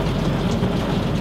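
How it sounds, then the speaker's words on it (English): Rain falling in a steady, dense wash of noise with a low rumbling undertone, constant and fairly loud, with no voices. "Little bit of rain never hurt anybody."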